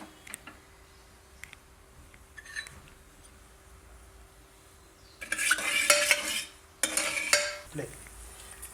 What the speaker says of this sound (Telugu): ఆయిల్ కాగిన తర్వాత ఒక స్పూను మెంతులు వేసుకోవాలి.